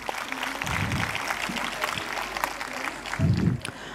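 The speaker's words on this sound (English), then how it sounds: "A big round of applause for these young artists." An audience at a school's annual day claps for young performing artists, a steady spattering applause over a low background hum with a couple of louder swells.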